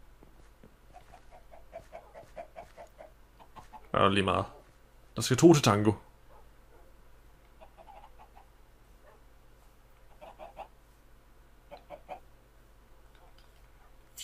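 Minecraft chickens giving soft, sparse clucks in the background while someone speaks Danish over them, with two short louder bursts partway through.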